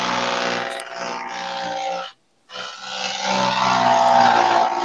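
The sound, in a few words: airplane engine noise in a player's room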